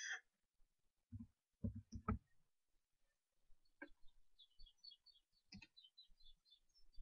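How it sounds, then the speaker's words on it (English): Faint bird chirps from outdoors, picked up indoors by a microphone: a few short high twittering calls in the second half, mixed with scattered clicks and soft knocks in a quiet room. "The birds outside even pick up on my mic?"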